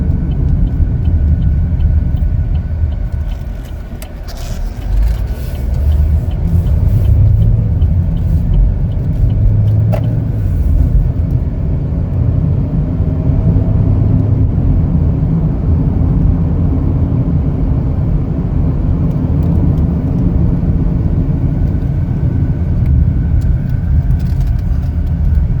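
Steady road rumble and engine drone from a 2021 Chevrolet Equinox LS on the move, heard from inside the cabin as a continuous loud hum with no talking.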